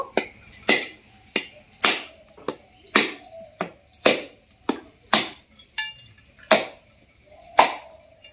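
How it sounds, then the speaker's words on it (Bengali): A coconut cracked open with a dao machete: about a dozen sharp, hard knocks in a steady rhythm, close and crisp, with a slight ringing clink on each strike. "এরপর দা দিয়ে ফাটিয়ে নেব।"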